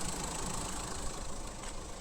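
A 2022 MG Hector Plus diesel engine idles steadily and fairly faintly, a continuous even rumble with no revving and no voices.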